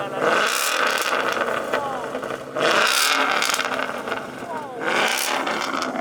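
A Ford Mustang V8 on launch control revs hard in repeated surges, each loud rising roar holding briefly then dropping back before the next, three pulses close to the microphone.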